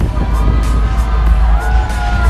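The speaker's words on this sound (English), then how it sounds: "That's the sound of equality right there, is a bunch of men going, woo" A crowd of men cheering, whooping and shouting at a comedy show in Brisbane, loud and boisterous with rising woos over a rumbling low background.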